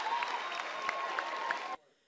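A school crowd of about six hundred students applauds and cheers in a gym, a dense wash of clapping and occasional whoops that cuts off abruptly near the end.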